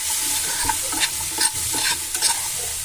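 Garlic and masala for aloo matar curry stirred in a hot pan, with a loud steady sizzle and repeated close scraping strokes of a spoon.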